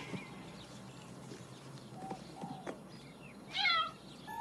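A pet cat called Mew Mew gives a couple of short meows near the end, in a quiet indoor room, after scattered soft knocks and thumps and no talk.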